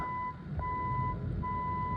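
Loud 60 dB test tone from an Audixion AX-300 audiometer, a steady pure tone that drops out briefly and returns, heard over low room hum and background rumble.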